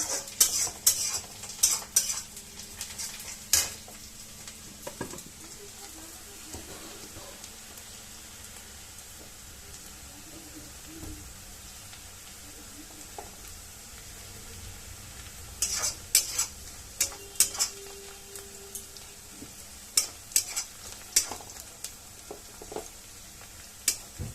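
Onions fry with a soft, steady sizzle in a pan, punctuated by sharp clinks and scrapes of a utensil stirring against the metal, faint and close with no talking.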